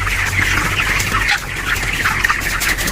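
Lazy domestic chickens squawking loudly and close by, a dense run of harsh overlapping calls lasting the whole moment with no talk.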